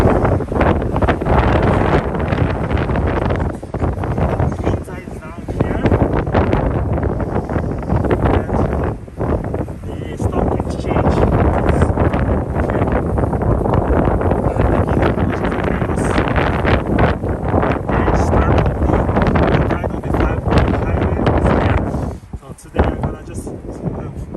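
Strong gusts buffet the microphone nonstop on a walk through Tokyo's Nihonbashi old quarter, a loud roaring rumble that swells and dips irregularly with crackling bursts.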